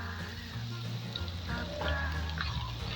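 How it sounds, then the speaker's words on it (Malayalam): Mustard seeds pop while crushed garlic and ginger paste fry in hot oil for a beef curry, a soft steady sizzle with faint crackles, heard close. "കടുക് പൊട്ടി തുടങ്ങി നമുക്ക് കുറച്ച് വെളുത്തുള്ളി ചതച്ചത് നമുക്ക് ഇങ്ങോട്ടിടാം."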